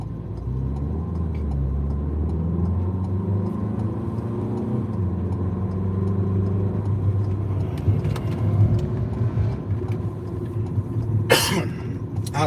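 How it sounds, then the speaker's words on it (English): A loud Ford Mustang on the road at night gives a steady, deep engine rumble close ahead, holding a constant drone with slight swells throughout. "that Mustang must be in front of me again. He is loud."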